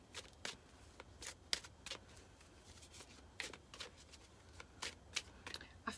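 A deck of angel answer cards is shuffled by hand in a quiet room, giving a run of soft, close riffling and flicking bursts.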